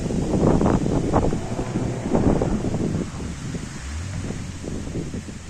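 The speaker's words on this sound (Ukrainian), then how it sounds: "трохи вітер. Оце бачите, такий вітер." Hot, dry gusty wind buffeting the microphone in rough, rumbling waves, strongest at first and easing slightly toward the end.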